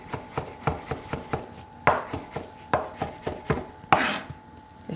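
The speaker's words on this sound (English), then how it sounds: "mushroom, which is very easy to chop, very soft" A knife chops soft mushroom on a board in a quick, even run of crisp taps, about a dozen close strikes with a couple of heavier scraping cuts, no talk.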